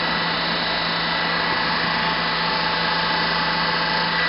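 A DC motor runs steadily at reduced speed after its armature voltage is raised to 250 volts, giving a constant, loud motor whine with a fixed hum tone and no breaks.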